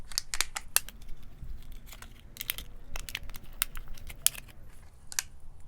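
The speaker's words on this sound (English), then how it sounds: "first you take the scissors and you cut the necks off of your balloons" Scissors snipping the necks off rubber balloons, a run of sharp, close clicks and crisp cuts scattered unevenly over several seconds, with light crinkling between them and no voices.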